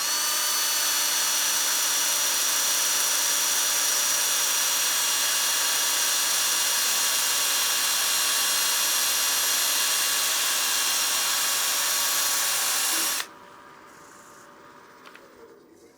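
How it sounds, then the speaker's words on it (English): A power sanding disc works over a turned wooden bowl on the lathe, a steady high whining hum with a smooth rubbing hiss that runs loud and unbroken, then cuts off abruptly near the end, leaving quiet. "Let's go ahead and sand that out now. I'm gonna get a new disc as well"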